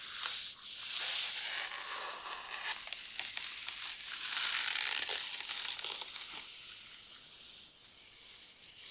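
Flower petals and stems rub scratchily against fabric close to the ear, a soft, dry brushing rasp that swells and fades in gentle strokes with no voices.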